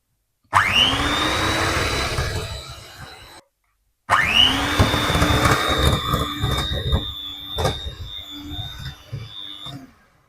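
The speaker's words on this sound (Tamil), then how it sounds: "100 கிராம் பவுடர் பண்ண சுகரை போட்டுட்டு நாங்க ஒரு நிமிஷம் பீட் பண்ணுவோம்" An electric mixer beats powdered sugar for Christmas cookie dough, whining loudly as it spins up in two runs separated by a short pause, with the beaters rattling against the bowl.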